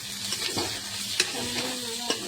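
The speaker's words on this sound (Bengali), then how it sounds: "আলুটাকে ভেজে নিয়েছি ভালো করে" Potatoes frying in a pan with onion, tomato, chili and garlic, a constant close sizzle broken by a few sharp stirring clicks and scrapes.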